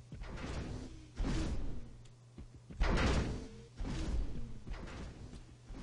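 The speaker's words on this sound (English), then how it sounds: "We have opening and closing sound effects." A door in a game level opening and closing, heard as several whooshing, sliding sweeps with a soft thud between them, repeated over a few seconds at moderate loudness with no talking.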